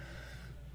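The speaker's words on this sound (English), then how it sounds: "I apologize for the sniffles" A single short nasal sniffle, a quick breathy intake close to the microphone, faint and alone.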